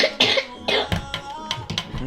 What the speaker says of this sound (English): She had a cough.